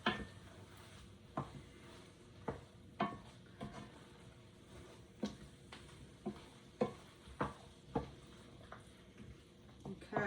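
Marsala meatballs fry in a pan with a steady soft sizzle, broken by repeated sharp clinks and scrapes of stirring at irregular intervals, close and fairly quiet.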